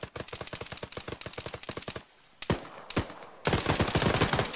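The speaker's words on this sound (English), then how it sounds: "I'm hearing some more gunshots over here." Rapid bursts of automatic gunfire in the military shooter Arma 3, loud and close, with a brief pause, a few single shots, then another sustained volley.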